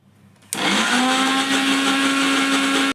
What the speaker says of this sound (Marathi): आता याला मी छान मिक्सरवर बारीक करून घेणार आहे